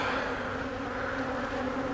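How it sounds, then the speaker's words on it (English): Many honey bees buzz on a hive lid in spring, a dense, steady hum held close and unbroken. "there's a lot of bees on this"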